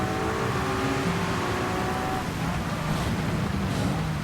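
Race car in Gran Turismo 7 at Spa during a 24-hour race, a loud continuous engine drone with steady tonal whine, the pitch dropping as it slows mid-corner amid constant road and tyre noise.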